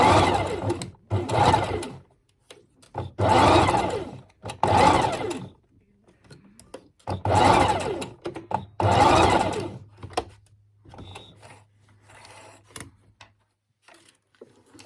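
Sewing machine stitching a seam on a fabric pig snout: close, whirring motor bursts of one to two seconds each, starting and stopping repeatedly with short pauses between runs.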